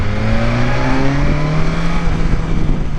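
A steady, loud engine drone from a 2020 BMW S1000XR motorcycle with stock exhaust, holding a low rumbling pitch that rises slightly, running continuously without any talking.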